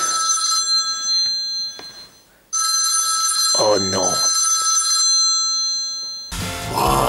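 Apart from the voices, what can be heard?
telephone ringing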